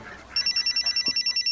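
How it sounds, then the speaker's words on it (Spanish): A mobile phone rings with a rapid, regular electronic trill, about a dozen quick pulses, fairly clear and close, cutting in after a faint murmur. "Ay, que es mi mujer, que me está llamando."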